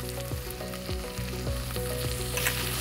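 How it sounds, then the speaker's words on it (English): Onion, garlic and three kinds of herbs sautéing in hot oil for a vegan stew, a dense, steady crackling sizzle, close and continuous with no voices. "I'm going to saute the onion first. Then I'm going to add in the garlic."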